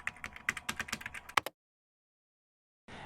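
Fast clattering keystrokes on a computer keyboard while typing a search phrase, a burst of close clicks lasting about a second and a half before stopping into silence.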